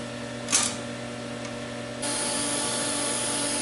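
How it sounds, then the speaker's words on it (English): Small tack welds laid on a metal aircraft weathervane, a steady electric buzz and hiss with a brief brighter crackle early on, then the hum steps up louder and continues close and unbroken to the end, with no talking. "just these small welds that I'm putting on like this seem to work fine"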